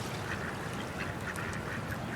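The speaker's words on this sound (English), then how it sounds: "Some more duckies." Several ducks quack repeatedly at an outdoor bird-feeding spot, a series of short nasal calls at moderate distance over steady background noise, with no talking.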